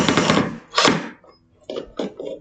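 Power drill driving fasteners while assembling IKEA furniture: loud whirring bursts, a long one at the start, then several shorter pulses with brief pauses between, close up.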